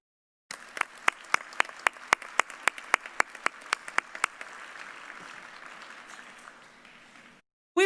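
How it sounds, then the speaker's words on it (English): A commencement audience claps for the faculty in a sparse, reverberant hall, with a handful of distinct sharp claps over a thin bed of applause that gradually fades out before a brief sound at the very end. "Please join me in saluting our faculty with a round of applause"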